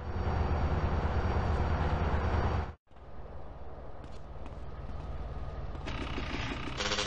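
Train rolling past in GTA San Andreas: loud continuous rumble and clatter of railcars, cut by a sudden brief drop to near silence, then a steadier mechanical rumble with faint clanks, with no talk.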